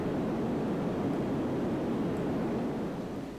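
Steady broadband roar of an airplane flying in the SimplePlanes video game, continuous and fairly loud engine and air rush with no talking.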